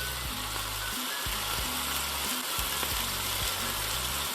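Chicken fillet sizzles and fries steadily in a hot pan, a dense continuous crackle with a few low knocks and scrapes from stirring, close and fairly loud, no voices.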